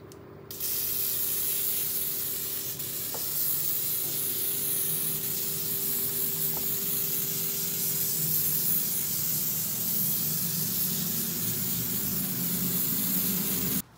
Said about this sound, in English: So we're gonna go ahead and spray some foam.